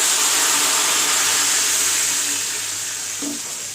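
A loud, steady hiss of hot oil tempering sizzling as it is poured over Hyderabadi sour lentils fills the whole stretch, slowly fading a little toward the end.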